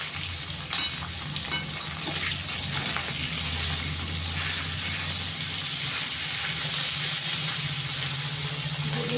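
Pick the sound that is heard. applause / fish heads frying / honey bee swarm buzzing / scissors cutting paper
fish heads frying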